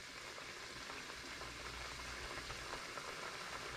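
Mushroom risotto left unstirred in a pan bubbles and sputters rapidly, a soft, steady crackling simmer heard close and alone throughout.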